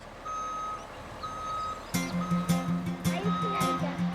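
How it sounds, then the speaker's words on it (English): A stone delivery truck reverses onto a muddy building site, its steady reversing beeper pulsing alongside a loud diesel engine rumble that rises midway, with a voice talking faintly underneath. "The arrival of the first of 10 trucks of stone they need"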